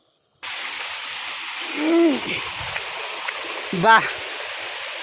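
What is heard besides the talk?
Benarai waterfall at Seethampeta, flowing water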